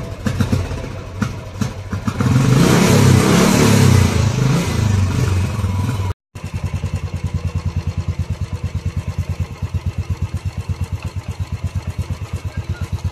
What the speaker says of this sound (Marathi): आता गाडी चालू केली आहे.